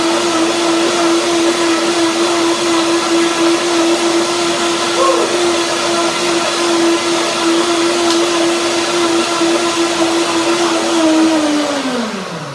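A blender runs steadily, whirring through macadamia nut mayonnaise with a constant high motor tone, loud and close, then winds down at the end.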